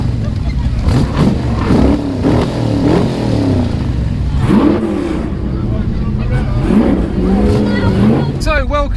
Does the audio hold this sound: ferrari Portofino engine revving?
yes